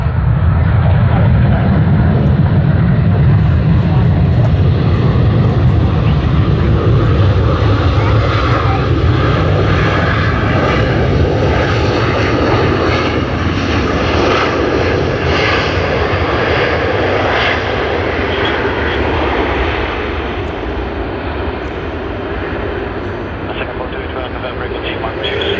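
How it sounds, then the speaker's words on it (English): A Singapore Airlines Airbus A380 landing at Sydney Airport gives a loud, sustained jet engine roar with low rumble, steady throughout and easing slightly near the end, with people talking over it. "I hope you all enjoyed the arrival of Singapore Airlines on the A380 too."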